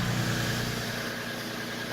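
A car engine idling while it warms up, a steady close rumble with an even low hum and no revving.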